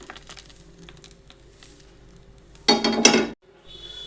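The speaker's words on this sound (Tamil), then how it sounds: "இப்போ இதெல்லாம் நான் கடுகு, உளுந்து, கருவேப்பிலை, காஞ்ச மிளகாய் தாளித்து கொட்டிக்கிறேன்." A hot tempering of mustard seeds, urad dal, curry leaves and dried red chillies is tipped into peanut chutney, giving a short loud crackling sizzle lasting under a second after a stretch of faint kitchen clinks.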